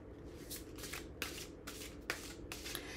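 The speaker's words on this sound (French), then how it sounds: "On va tirer encore quelques cartes." Tarot cards are shuffled and drawn from a deck in several brisk riffling bursts, close and fairly quiet, with no voices.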